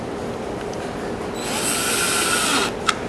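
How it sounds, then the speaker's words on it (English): A 12-volt cordless driver whirs steadily for a second or so as it runs small screws into a wooden fishing reel box, ending with a short sharp click. "This is a 12-volt"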